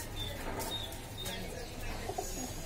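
Pigeons coo softly nearby, low murmuring calls mixed with a few faint chirps and light rustling against a quiet background.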